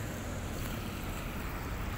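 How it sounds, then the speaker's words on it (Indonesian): A small flooded river overflows its banks in heavy monsoon rain, producing a steady, dense roar of rushing water that never pauses, with broadband wash and a touch of wind. "Banjir. Sungai kecil ni sudah meluap."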